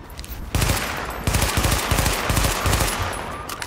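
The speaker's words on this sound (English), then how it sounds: "Burst fire." Rapid bursts of automatic gunfire from the video game The Division crackle loudly in close, repeated volleys with barely a pause between them.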